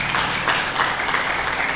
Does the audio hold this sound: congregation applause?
yes